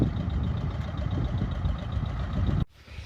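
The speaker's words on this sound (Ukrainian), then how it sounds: "батько їде на тракторі" T-25 tractor engine running on a farm field, a steady close idling rumble that cuts off abruptly near the end, leaving quieter background.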